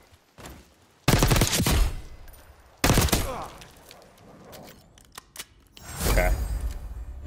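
Gunfire in Call of Duty Black Ops 6 erupts in three loud bursts of rapid shots separated by quieter gaps, sharp and close, with echoing tails after each volley.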